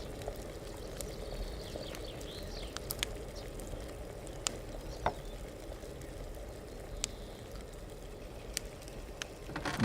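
A herbal brew with nettle boiling in a pot in the medieval game Kingdom Come, a steady watery bubbling and gurgling with faint chirps and small clicks scattered over it.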